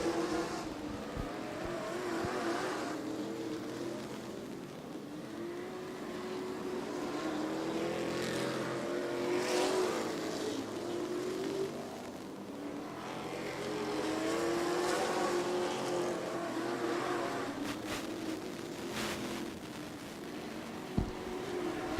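Race trucks at a New England Truck Series event at Riverhead Raceway, with engines droning and swelling continuously as the pack circles the oval. The sound is distant to mid-range and steady, with rising and falling passes and no speech audible.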